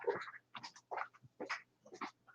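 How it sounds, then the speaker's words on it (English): A dog shut outside in freezing cold gives a string of short whimpering, whining and yelping sounds in quick bursts, fairly faint and close, with no talking. "I forgot the dog's outside."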